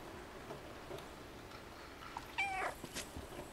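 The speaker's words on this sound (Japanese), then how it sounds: "めちゃくちゃ優しめのニャーでしたね" A small cat in the video game Stray gives a soft, gentle meow over quiet ambient game noise, one short call partway through.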